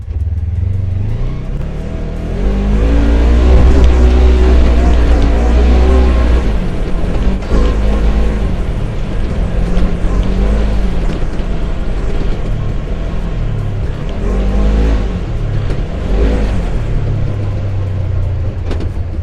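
A Polaris General side-by-side driving in four-wheel drive, its engine droning loud and close with rising and falling revs as it accelerates and eases off, without any speech.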